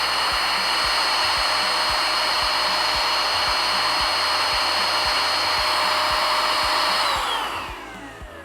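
A cheap paint sprayer loaded with Raptor coating hisses loudly and steadily with a rapid mechanical ticking underneath, sputtering as it draws half paint and half air, then winds down and fades near the end.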